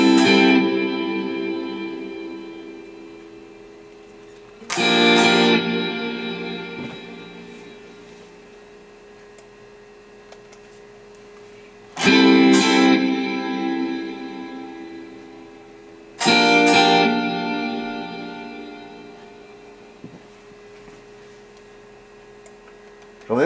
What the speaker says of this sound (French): comme un effet ping-pong un petit peu dans le son, dans la modulation, dans le son du reverb